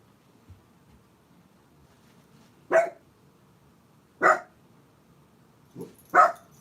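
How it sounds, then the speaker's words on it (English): Dogs bark in three separate bursts, each fairly close and sharp, spaced a second or more apart, with a smaller yelp just before the last one over a quiet background. "My dogs are barking."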